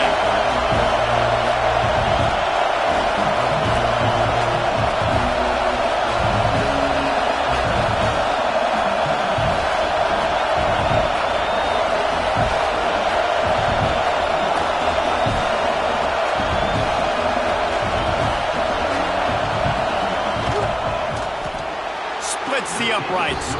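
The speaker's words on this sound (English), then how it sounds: "This crowd trying to do its part to get inside the kicker's head" A football stadium crowd roars steadily ahead of a field goal kick, a dense continuous wall of cheering and shouting that holds for over twenty seconds, with commentary voices running underneath.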